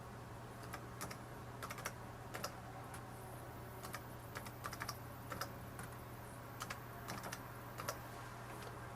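Someone types a password on a laptop keyboard, a faint, uneven patter of soft key clicks in small bursts over a steady low electrical hum, with no talking.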